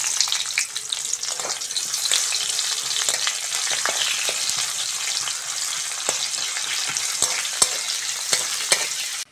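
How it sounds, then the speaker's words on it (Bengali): Chopped onions frying in oil with dried red chillies and five-spice, a dense close sizzle with frequent stirring scrapes and taps of a spatula, no voices. "পেঁয়াজটা ভালো করে ভেজে নিয়েছি"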